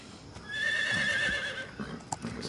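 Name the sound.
horse neighing in video game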